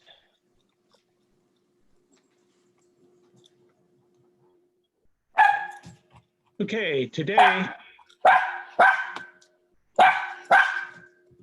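A dog barks repeatedly during an online video meeting, a run of sharp, fairly close barks in pairs after a quiet stretch, with a person briefly speaking among them.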